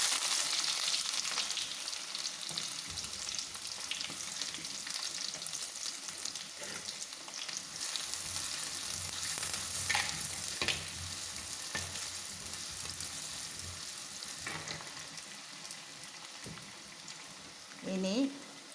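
Sliced onions fry in coconut oil in a clay pot for Kerala-style prawn mappas, with a continuous close sizzle and crackle broken by occasional scraping stirs and a short clatter near the end.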